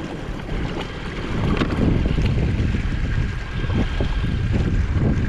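Torqeedo electric motor pushing an Old Town Sportsman 120 Autopilot fishing kayak on open water, a steady low churn and hum under constant wind buffeting and water wash, without speech.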